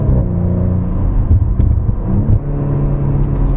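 An Audi RS4 Avant B9 with a 450 PS twin-turbo engine pulls hard, heard from inside the cabin as a loud, deep, steady rumble with a slight rise in pitch and no voices.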